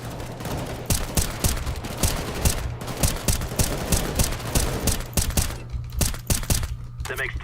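Rapid gunfire in CS:GO on a custom map, bursts of sharp automatic shots repeating steadily and close, with someone talking over the shooting.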